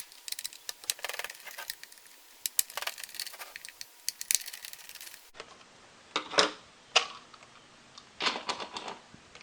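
Small Torx 8 screws being backed out of the plastic housing of a Dyson DC59 Animal cordless vacuum, heard as close, light ratcheting clicks and scrapes in short irregular bursts, with plastic handling noises and no talk.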